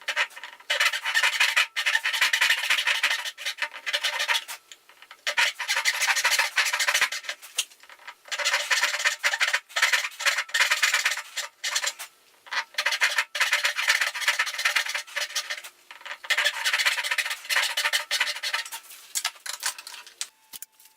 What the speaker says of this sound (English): I use a dovetail saw to make a relief cut in the pin board